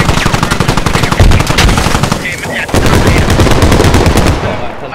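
Automatic weapons fire in the video game Squad during a rooftop firefight: loud, close, rapid bursts of shots with a brief lull in the middle.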